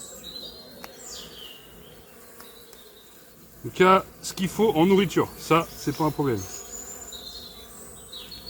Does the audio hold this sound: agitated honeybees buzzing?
yes